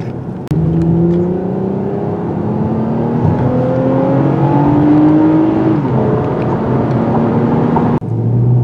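A 2022 Toyota Camry TRD on a road test drones loudly through corners and braking, its engine tone rising steadily under load, then dropping as it slows, with a brief cut near the end and no talking.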